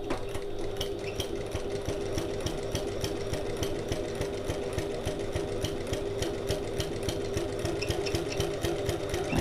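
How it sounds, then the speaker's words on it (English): A sewing machine top stitches up a seam on a Stanley Satchel bag, with a bit of back stitching, giving a steady, continuous close mechanical whir with a fast even needle rhythm and no voices. "I'm sewing up this line to the top, bit of back stitching"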